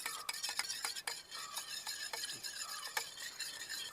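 Sunflower oil and a tablespoon of ghee get stirred together in a bowl, with quiet, quick scraping and clicking strokes of the utensil over four seconds and no voices.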